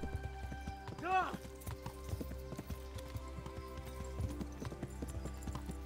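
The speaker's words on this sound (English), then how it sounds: "it happened to have been that horse right there, Olena" Horse hooves clip-clop at a steady walking rhythm in the medieval video game Kingdom Come: Deliverance, soft and continuous under a constant ambient bed, with a brief horse whinny early on.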